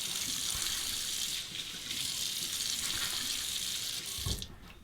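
Hot water runs steadily from a tap into a sink, a continuous close splashing hiss during shaving preparation.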